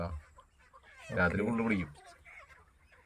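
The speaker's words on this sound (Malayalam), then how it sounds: "രാത്രി മുഴുവൻ നീളം ഈ കോഴി തൂക്കലും ഒച്ചപ്പാടും" Chickens cluck and squawk during night-time catching and weighing on a poultry farm. Someone talks over the birds, and the commotion swells in the middle before settling to low clucking.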